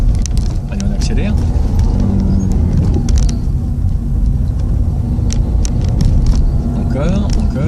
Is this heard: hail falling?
no